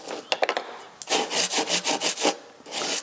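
Debris and rust scraped off the body of a TVR 3000 M, heard as a few quick scratches followed by a run of rhythmic rasping strokes, close and fairly quiet.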